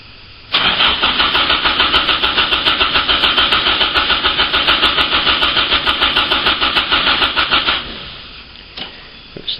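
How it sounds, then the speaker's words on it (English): Starter cranking an engine off a LIP 014B lithium ion battery, a loud steady rapid chugging that runs about seven seconds without catching, then cuts off, leaving quiet with a few small knocks. "see if it'll give us a comfortable 30 seconds of cranking"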